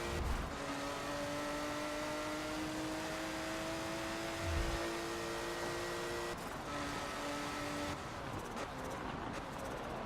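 Race cars in the video game Forza Motorsport 7 during a career Driver's Cup race: a steady engine drone with rising and falling whines from several cars, holding at a moderate level for the whole stretch.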